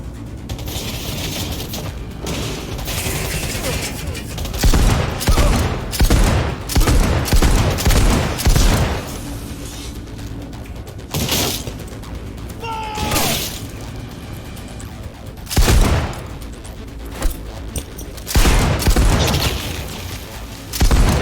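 Heavy gunfire in Cyberpunk 2077, with bursts of loud close shots and booms in several clusters, separated by quieter stretches of combat ambience and shouted voices.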